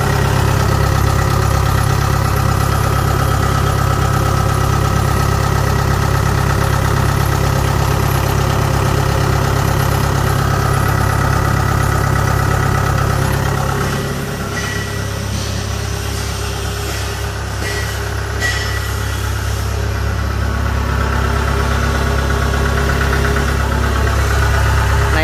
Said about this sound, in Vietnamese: Để quay cái động cơ cho anh em xem.